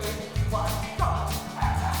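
A small terrier and a Weimaraner gun dog at an agility show, with repeated loud barks and yips coming in bursts over a busy arena background.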